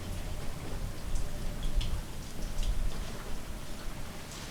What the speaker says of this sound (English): Little rain never hurt nobody.